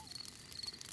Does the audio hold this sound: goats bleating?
no